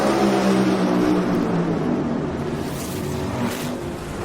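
Top Fuel dragsters at the NHRA Pomona final send out a loud, continuous engine roar that slowly fades as they pull away, with no voices.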